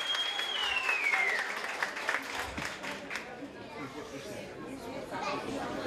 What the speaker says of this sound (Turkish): Alkış isteyeyim.